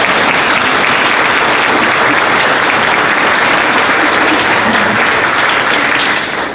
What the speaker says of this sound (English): Let's have a special round of applause for our honors band